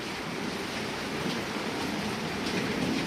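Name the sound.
heavy rain falling in Rajahmundry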